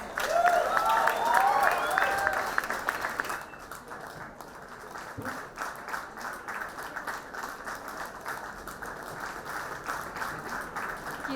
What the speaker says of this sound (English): I request everyone to have a thunderous round of applause